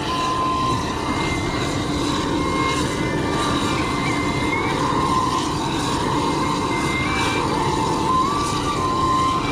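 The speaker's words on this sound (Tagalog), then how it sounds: "Yung aeroplano." A fixed-wing airplane passes overhead with a loud, steady engine roar and drone that holds throughout, with no talking.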